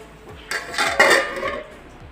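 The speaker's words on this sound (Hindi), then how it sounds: "अब इसको मैं कवर कर देती हूँ दस मिनट के लिए" A lid is put onto a metal cooking pot in a home kitchen: a couple of close metallic clinks and a brief rattle, with no voices.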